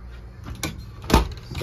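Double refrigerator and freezer doors in the kitchen of a 2004 Kountry Aire Newmark fifth-wheel RV open with two close thumps and clunks, separated by light rustling.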